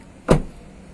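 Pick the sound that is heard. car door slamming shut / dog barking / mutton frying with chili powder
car door slamming shut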